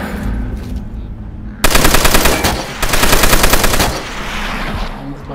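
Rapid automatic gunfire rattles loudly in Call of Duty: World at War, two sustained bursts of machine-gun fire close up, separated by a short pause, with quieter game ambience before and after.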